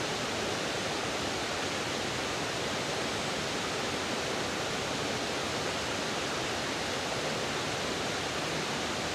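Steady broadband rush of flowing water, like a stream or waterfall, constant and fairly loud with no change in level and no voices.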